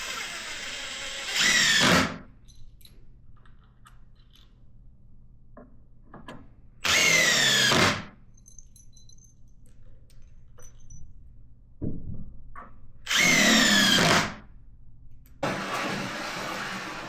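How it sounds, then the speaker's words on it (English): A wood lathe doing outboard turning spins up in three loud bursts separated by quiet pauses, with faint clunks and handling noises between runs. "This time we'll be outboard turning."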